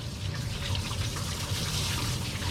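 Steady running water pours over a dog in a tub during a home bath, a continuous broadband splashing rush with no pauses, moderately loud and close, with no voices heard.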